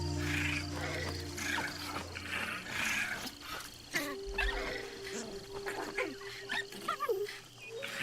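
Fox pups fighting in Assassin's Creed Shadows: repeated yelping, squealing and growling calls over a game soundscape, with someone talking at moments.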